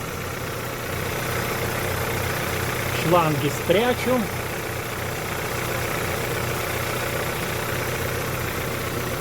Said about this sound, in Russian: Машина завелась без проблем.